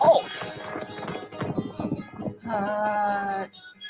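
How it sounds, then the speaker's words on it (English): A horse whinnies and hooves clatter in rapid, uneven beats, ending in a sustained tonal burst, fairly close and loud. "That is a horse."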